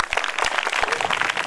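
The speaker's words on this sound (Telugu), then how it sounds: "కాబట్టి వారందరికీ కూడా మీరందరూ ఒక్కసారి గట్టిగా చప్పట్లు కొట్టాలి" An audience at a Nizamabad event claps, a scattered ripple of hand claps that keeps going through the short burst.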